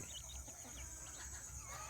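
Chickens at a poultry yard in Angamaly, Kerala, clucking softly and continuously at a distance under a steady background hum.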